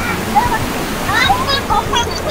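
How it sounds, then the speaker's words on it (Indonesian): River water rushing steadily at a campground in Ciwidey, Bandung, a close, continuous watery roar with small splashes, while voices talk over it. "Kita ngelewatin sungai."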